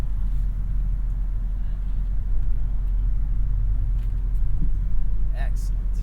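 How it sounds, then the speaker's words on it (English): A 2024 Lexus GX 550 Overtrail+ SUV creeping along a parking-lot course on crawl control, a low steady engine and drivetrain rumble heard from inside the cabin with faint clicks near the end. "you're gonna come off that gas, let crawl control make the motivation happen"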